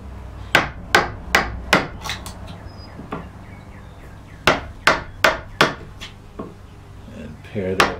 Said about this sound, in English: now I'll put the chisel right in the line